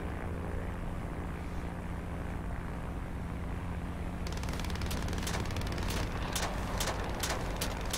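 A propeller warplane drones on in World of Warplanes, a constant engine roar. Midway through, sharp rapid bursts of gunfire break in repeatedly over the hum.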